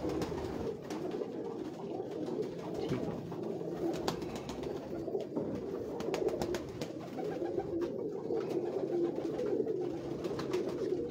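Pigeons of old breeds coo steadily in a loft, a soft continuous murmur of overlapping calls from several birds, close and moderately loud throughout with no talking.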